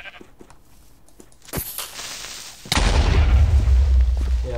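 A Minecraft sheep bleats a few times faintly, then a sudden loud boom erupts into a heavy, sustained rumble.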